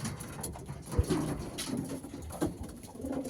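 Domestic pigeons in an aviary coo in low, soft bursts, with males growing agitated; several murmuring calls come close together over faint background rustle.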